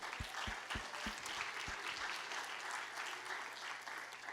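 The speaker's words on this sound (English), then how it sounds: "So please give them a round of applause." An audience at a gathering on social connection and care breaks into steady applause, with a few heavy thumps early on beneath the even clapping.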